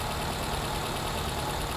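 Nissan Cube engine idling at about 1150 RPM, a steady broadband running drone with a faint exhaust rumble, continuous and even throughout with no talk.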